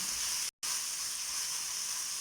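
Soy sauce hitting a hot pan of chicken stir-fry spaghetti gives a steady, bright broadband sizzle. It runs throughout with one brief dropout of silence, and no one talks.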